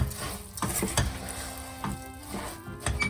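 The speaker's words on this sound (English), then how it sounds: "the rice bubbles, stir it until it all mixes and is evenly coated with the Mars bar slice" Rice bubbles stirred into a melted Mars bar mixture, close scraping strokes and crisp rustling in an uneven rhythm, with occasional light clinks against the pot and no voices.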